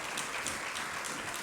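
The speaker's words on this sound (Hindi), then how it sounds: "सभी लोग तालियां तो बजाएं कम से कम।" Audience clapping at a religious training camp gathering, a dense, fairly faint burst of applause lasting only a moment.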